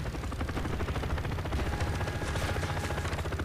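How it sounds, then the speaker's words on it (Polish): Rapid, dense gunfire in Call of Duty: Black Ops crackles continuously, with a constant rumble underneath. "Ktoś to jeszcze do nas strzela"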